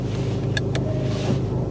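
A car engine idles at a steady low rumble in a parked car at the curb, with a couple of brief chimes partway through.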